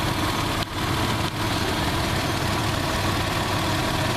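A 1997 Isuzu Rodeo engine idles steadily up close, a loud continuous low rumble with even vibration and no voices.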